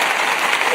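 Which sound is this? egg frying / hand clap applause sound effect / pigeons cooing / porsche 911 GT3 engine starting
hand clap applause sound effect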